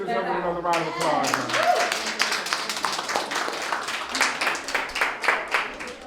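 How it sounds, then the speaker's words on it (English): An audience claps through a round of applause at a live event, starting as scattered hand claps and settling into steady, moderately close clapping, with a voice talking over the opening moment. "Let's give this up another round of applause."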